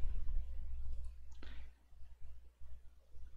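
A single sharp mouse click on the Next button while installing the Audacity audio editor on a computer, brief and fairly close against a low background hum.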